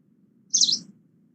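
A green warbler gives a single short, high three-syllable chirping call, brief and clear against a quiet low background hum.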